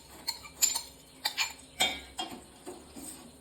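Fried boondi dropped into warm sugar syrup in a pan, giving a few soft clinks and rustling pours in separate bursts, close and fairly quiet.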